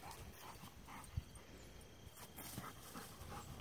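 A puppy pants softly and rapidly on a morning walk outdoors, faint and close, with light rustling and a small whimper in the background.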